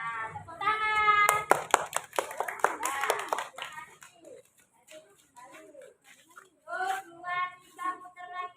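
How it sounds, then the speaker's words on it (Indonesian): A class of fifth-grade pupils claps hands for about two seconds, a quick patter of several claps, amid children's voices singing and talking. "Tepuk tangan"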